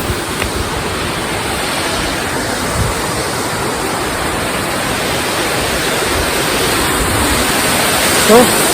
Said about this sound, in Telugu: ఇట్లా ఫ్లో అవుతున్నా చూడండి ఒకసారి వాళ్ళ అక్కడ నుంచి ఇక్కడ నుంచి వెళ్ళిపోతుంది కిందికి వస్తుంది వాటర్